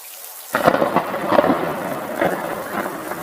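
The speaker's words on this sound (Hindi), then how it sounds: "एक दिन कालू कौवा बारिश के मौसम में पेड़ पर बैठा हुआ बारिश की बूंदों का आनंद ले रहा था" A thunderclap rumbles in over steady rainfall, the storm's roll loud and broad before settling into a continuous wash of rain.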